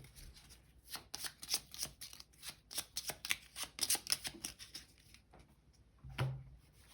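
Cards from the Bloodborne board game's Mergo's Loft expansion being shuffled by hand, with close, quiet riffling bursts and crisp flicks in quick succession, then a soft thump near the end.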